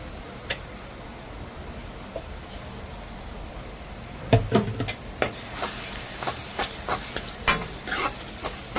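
Onion and tomato hit a hot pan for a Rajasthani gatte curry, starting with a quiet hiss, then breaking into scattered sizzling crackles and stirring clatter about midway, close and moderately loud with no talking.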